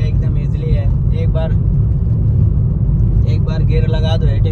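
Automatic car driving along, a steady low engine and road rumble filling the cabin throughout, with someone talking over it.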